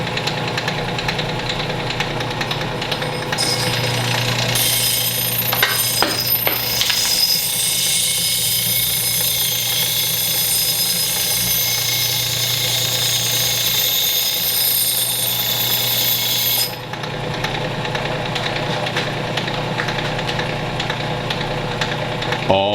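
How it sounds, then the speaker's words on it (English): A chisel is held against a spinning sharpening disc, giving a loud, steady high-pitched grinding whine with a low motor hum beneath. The whine runs for about thirteen seconds, then drops away to the quieter hum. "the reason that I went all the way around the disc like that was to make sure it got sharpened from all angles"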